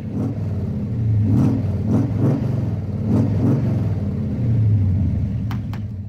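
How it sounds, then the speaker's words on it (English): A Ford 302 V8 engine idles with a deep, lumpy rumble, blipping the throttle in several short revs that rise and fall. "That's called a dialed engine right there"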